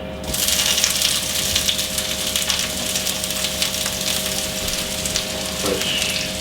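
Onions hitting hot oil in a pan for Thai yellow fish curry, a loud sudden rush of sizzling that settles into steady crackling frying with a few small clinks.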